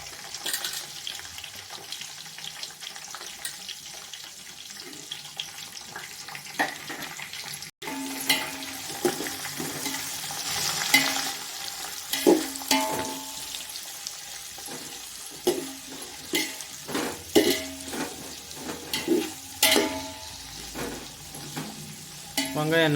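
Around 400 grams of sliced onions with green chillies fry in a pan for mushroom biryani, a steady low sizzle broken by repeated scraping stirs and clinks, close and moderately loud.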